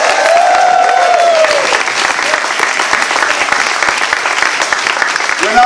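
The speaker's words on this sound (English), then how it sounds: "Let's give them a strong round of applause." A political rally crowd bursts into sustained, loud applause and cheering, with a whistle at the start and voices mixed into the clapping throughout.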